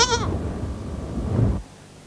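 A goat bleats loudly and close at the start on Lanzarote, where goats are kept for meat, followed by low rumbling farmyard noise that stops abruptly.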